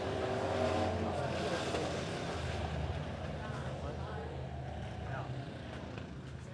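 Midwest modified race cars roar around a dirt oval at Springfield Raceway, a loud continuous engine drone that eases slightly as they come off turns 3 and 4, with a crowd or announcer murmur mixed in underneath.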